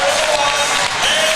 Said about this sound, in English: big crowd here for the Puxico Indians. And they are getting loud and hitting their feet.